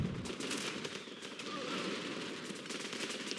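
Artillery shells from a two-round fire mission landing in Running with Rifles, a dense steady roar of gunfire and crackling blasts, distant and fairly faint throughout.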